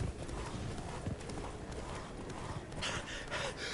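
Horse hooves clip-clop steadily in The Witcher 3 as the rider's horse trots along, a close, rhythmic patter of hoofbeats over ambient game sound, with a brief whinny-like burst near the end.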